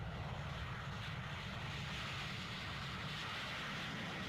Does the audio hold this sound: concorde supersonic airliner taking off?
yes